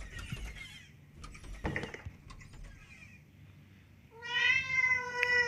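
A cat meows in a horror video game set inside a house: a drawn-out, high, tonal meow rises clearly after quieter scattered clicks and thumps, fairly close and unaccompanied by speech.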